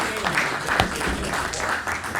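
An audience at a talk on law and legal practice applauds to welcome a speaker to the stage, with a steady, dense round of clapping filling the whole moment at a fairly loud level.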